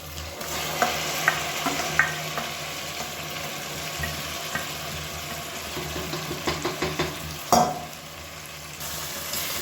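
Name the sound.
chicken frying and being stirred in oil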